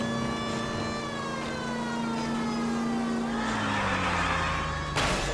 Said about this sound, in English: Turning on the sirens.